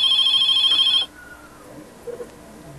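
A telephone ringing inside a prank call setting, a bright electronic ring tone sounding steadily for about a second before cutting off, leaving a quiet line with faint background noise.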